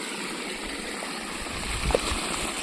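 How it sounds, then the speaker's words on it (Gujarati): Water rushes steadily at a hilltop temple site beside an old banyan tree, a constant near wash with a small splash partway through. "તમને પાણીનો અવાજ સંભળાતો પણ હશે"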